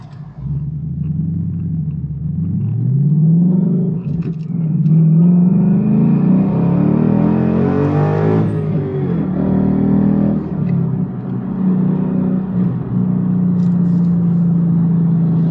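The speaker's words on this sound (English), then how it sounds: "Sorry, I had to merge into traffic." A car accelerates while merging into traffic, its engine rumbling and rising in pitch through the gears, loud and close from inside, swelling to a peak midway before easing back to a steady cruising drone.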